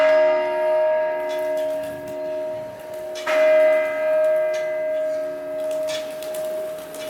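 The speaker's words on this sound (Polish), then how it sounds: "dzwony, taki kościelny, dają bardzo ładne alikwoty" Church bells ring out with rich sustained overtones, several strikes layering into a long shimmering hum that swells again midway, fairly close and loud with no talking.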